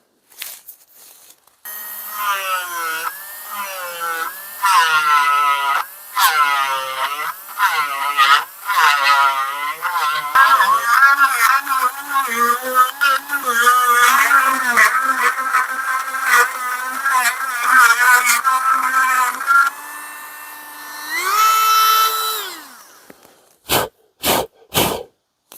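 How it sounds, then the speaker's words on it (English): A Dremel rotary tool hollowing out a thin wooden wedge in a hatchet handle: a close, high whine that wavers in pitch as it bites in short bursts, then holds steady before several sharp final bursts. "I'm going to grab a Dremel with a bit on it and just try to hollow that out."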